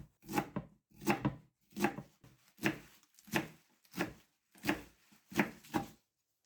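A knife coarsely chops Swiss chard stalks on a board in a home kitchen, eight or nine evenly spaced crisp cuts in a steady rhythm, close and clear.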